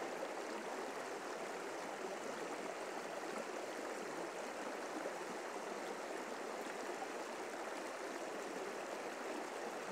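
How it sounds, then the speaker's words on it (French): River water flowing steadily in a stream, a broad continuous rushing and babbling close by, even in level and uninterrupted, with no voices. "je te fais faire un petit tour de là où je suis, à la rivière de l'Ouest"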